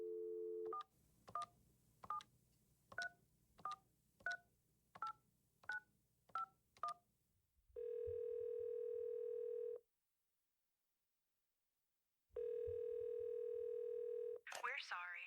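A phone number is keyed in as a quick run of about ten DTMF beeps, each short and evenly spaced. Two long steady tones follow with a gap between them, then a brief warbling sound at the end. Everything is heard alone.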